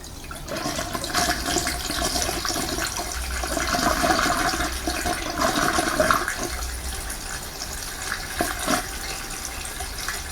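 Screen wash fluid poured into the washer reservoir of a 2007 Lexus RX400h, a continuous gurgling liquid flow that swells and fades slightly over about ten seconds, close up and without speech.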